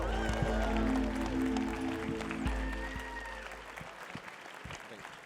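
A Las Vegas crowd applauds at the Snowflake Startup Challenge finale, dense sustained clapping over tonal music that thins and fades after about three seconds.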